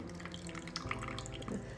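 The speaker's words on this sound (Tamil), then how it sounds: "ரெண்டாவது ஒருக்க தண்ணி ஊற்றி புளி தண்ணியை" Water pours into tamarind to make tamarind water for a fish curry, a brief soft trickle and splash in a kitchen, faint and close, with no speech over it.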